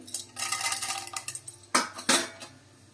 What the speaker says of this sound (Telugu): ఎండుమిర్చి మంచిగా ఫ్రై చేసుకోవాలి.